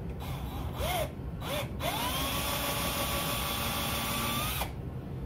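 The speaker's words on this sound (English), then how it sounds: "I'm going to drill a pilot hole first." A power drill bores a pilot hole into cast Nerf Stryfe parts, whirring up in short bursts and then running in one sustained whine for a few seconds before stopping.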